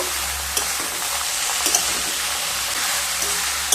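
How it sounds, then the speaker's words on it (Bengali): Bottle gourd pieces stirred in a pan for lau shukto, with a steady sizzle and close, irregular scrapes and taps of the spatula against the pan. "লাউগুলো দিয়ে খুব ভালোভাবে মিশিয়ে নেব।"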